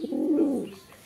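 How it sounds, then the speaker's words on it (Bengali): A Spanish pouter pigeon gives a single low, throaty coo close by, swelling and then fading over about a second, with no other sounds. "দর্শক এ পর্যায়ে দেখতে পাচ্ছেন এক পেয়ার কবুতর, গ্রেভার স্প্যানিশ পর্টার ভাই।"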